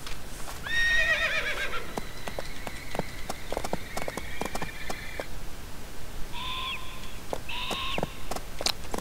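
Horse neighing and whinnying in the Barbie Horse Adventures PC game, a loud whinny near the start followed by a steady clip-clop of hooves and two later neighs, with no talking.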